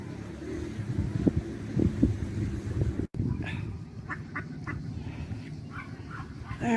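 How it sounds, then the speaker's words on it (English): A small duck quacks several times in short separate calls by a bridge near a seaside beach, fairly close but soft, over low outdoor rumble and faint background sounds. "There we go, a little duck"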